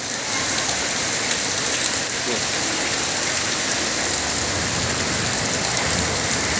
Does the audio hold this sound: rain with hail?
yes